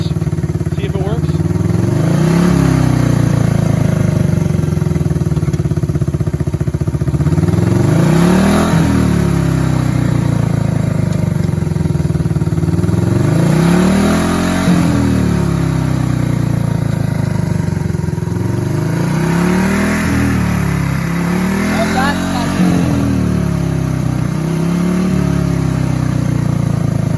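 A 53-year-old motorcycle on its center stand with the chain hooked up revs through all its gears, its engine pitch climbing and falling in about five steady, loud cycles.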